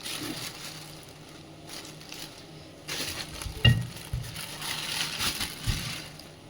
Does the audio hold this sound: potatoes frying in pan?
yes